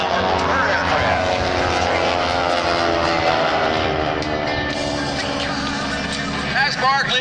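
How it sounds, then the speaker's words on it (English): Several T-6 Harvard trainer airplanes with 600 hp Pratt & Whitney radial engines roar loudly overhead during an aerobatic formation display at an airshow, a sustained droning engine sound with shifting pitch as they pass, mixed with an announcer speaking. "And the sounds you're hearing, not so much exhaust, that 600 horsepower Pratt Whitney engine"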